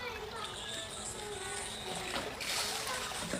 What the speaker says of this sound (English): My husband is splashing like a whale in the water.